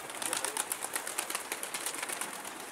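Pigeons flying off outdoors, a rapid run of soft wing flaps and fluttering at moderate distance, steady for a few seconds with no voices.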